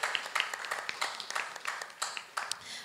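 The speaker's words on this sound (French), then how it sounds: "Sous vos applaudissements, s'il vous plaît." Scattered hand claps from a conference audience during an assembly on private capital, a brisk run of sharp, fairly close claps that never builds into a dense roar.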